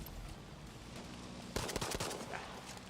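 Semi-automatic P08 carbine fire in the video game Battlefield, a short burst of sharp separate shots in the second half over a steady low game background, no voices.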